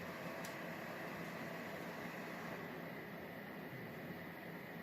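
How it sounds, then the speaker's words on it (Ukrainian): A solar inverter's cooling fan hums steadily and quietly, a constant airy whir with a faint high tone and no change throughout. "Так, вентилятор запустився"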